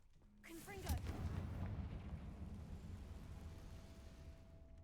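A Confringo fire spell blast in the video game Hogwarts Legacy bursts out as a loud, deep boom and then rumbles on with a sustained low roar for several seconds, with a short spoken sound near the start.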